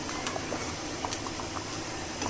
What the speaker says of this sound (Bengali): এখানে আমি দুধটা দিয়ে দিলাম।